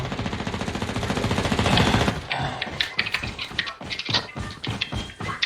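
Rytec AMR sniper rifle fire in Call of Duty Mobile: a dense, rapid burst of loud shots that gives way to a series of sharp separate cracks and impacts, with battle noise in between.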